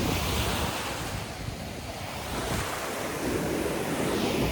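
Ocean surf breaking at a beach with steady wind buffeting the microphone, a continuous broadband wash that swells and eases, close and loud with no voices.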